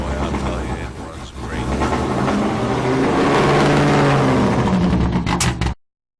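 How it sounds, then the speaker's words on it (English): A Stutz Blackhawk fitted with a racing engine is started and left running at a vintage racing event at Lime Rock, a loud, rough engine roar that swells steadily, with voices mixed in before it cuts off abruptly. "he did take the time to start the car up and let us have a little fun listening to how it runs"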